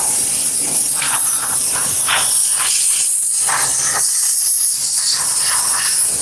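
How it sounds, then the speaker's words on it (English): A steam cleaner hisses loudly and continuously while steaming and scrubbing a leather car seat in a Toyota Highlander, with brush strokes adding rhythmic surges to the close, harsh spray. "I'm just gonna scrub and steam"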